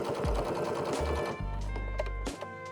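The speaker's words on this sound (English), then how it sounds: "When sewing the sides and bottom of the pocket, follow along the seam you made when folding over the edges." A home sewing machine stitching the side seam of a skirt pocket, its needle running in a rapid, loud mechanical chatter that pauses briefly then resumes with a steady low hum.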